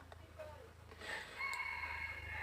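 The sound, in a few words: chickens and rooster on a farm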